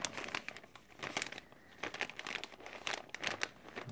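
A plastic bag holding a Russian ration flameless heater is folded over and taped shut, producing close, irregular crinkling and rustling bursts with short pauses between them.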